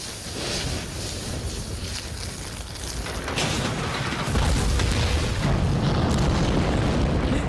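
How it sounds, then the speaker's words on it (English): A low, rumbling boom from an explosion in the video game Mad Max swells and lingers in a wash of broad noise, growing heavier toward the end with no voices. "A bit of an anticlimactic explosion"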